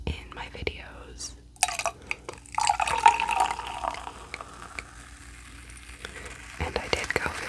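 Topo Chico sparkling water fizzing in an ASMR setting, a close, crackling bubble hiss that swells and fades over several seconds alongside soft liquid drips and quiet mouth sounds.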